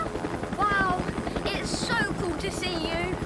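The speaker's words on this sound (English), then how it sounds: "Harold the helicopter?" Harold the helicopter from the Thomas & Friends cartoon whirs steadily under lively music and bright effects, with characters speaking over it.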